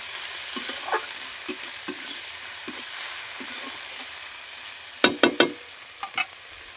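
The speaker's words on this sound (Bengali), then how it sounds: "আদা রসুন বাটা, টমেটো কুচি, কাঁচা লঙ্কা আর কিছুটা দিয়ে দিলাম। ভালো করে নাড়াচাড়া করব।" Ginger garlic paste, chopped tomato and green chilli fry quietly in a pan under a steady soft sizzle. A spoon stirs with occasional scrapes and taps, ending in a quick cluster of louder knocks against the pan.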